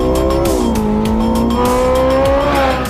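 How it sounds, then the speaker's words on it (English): A Porsche 918 Spider, a hybrid with a 4.6-liter V8 and two electric motors, races on the Nordschleife. Its engine note stays loud and sustained, dips and then climbs again over three seconds, with no voices. "The Nordschleife trembled under the sound of the 918 Spider."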